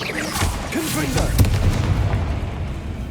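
A Confringo blasting spell fired in the Hogwarts Legacy video game, a sudden booming explosion with a crackling burst, heard amid game sound effects and a character's voice.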